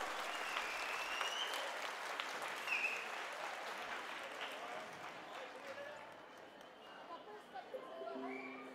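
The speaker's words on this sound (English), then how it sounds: "Please give her a big round of applause." Quiet applause from an audience after a children's dance performance at a school event, a soft, even patter that thins out toward the end.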